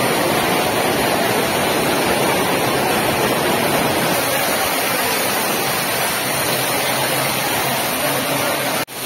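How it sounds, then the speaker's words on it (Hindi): Heavy stormy rain pours down at night over an outdoor pandal at a religious gathering, a loud, steady roar of rainfall that stays constant throughout and stops abruptly at the very end. "इतनी तेजी से तूफानी बारिश यहाँ पे आई है, झमाझम बारिश।"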